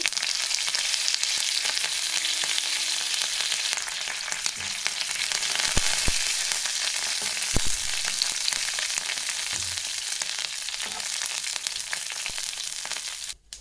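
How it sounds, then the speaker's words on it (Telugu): Cumin seeds and curry leaves fry in hot oil for Telugu dal curry, giving a steady, dense sizzle that runs the whole time, with a few louder pops and crackles breaking through; no one speaks. "జీలకర్ర కరివేపాకు బాగా ఫ్రై అయింది."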